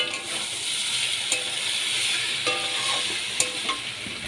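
A spoonful of Kashmiri chili powder is stirred into masala frying for a young jackfruit and prawn curry. A steady close sizzle runs throughout, with spoon scrapes and taps against the pan, and no talking.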